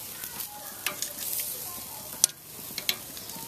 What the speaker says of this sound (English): I'm going to take these guys, flip them over here, and so forth.